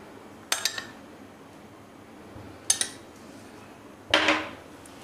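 Three sharp metallic clanks of a pan being handled on a gas stove while garlic butter goes in for a suji pizza, well spaced and close against a quiet kitchen background.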